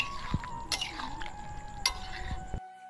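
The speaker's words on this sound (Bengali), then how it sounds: "এবার আমি এটাকে নেড়ে দেবো ভালো করে" Chana paneer masala stirred in a pan in its own liquid, a spoon scraping and clinking against metal in several distinct strokes over a soft sizzle, close and clear, with no voices.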